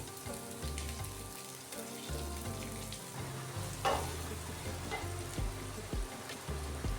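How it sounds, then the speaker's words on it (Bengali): Whole cumin seeds and three dried red chillies sizzle in hot oil in a pan: a continuous close crackle with occasional louder pops and light stirring knocks, no speech. "তেলটি গরম হয়ে গেলে তাতে হাফ টেবিল স্পুন গোটা জিরে এবং 3টে গোটা শুকনো লঙ্কা দিয়ে ফ্রাই করে নেব।"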